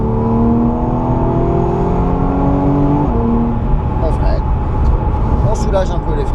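A car on the Le Mans driving track accelerates at full throttle, its loud engine note sustained and climbing steadily in pitch, then shifting into a rougher, busier roar with faint high squeals over the top.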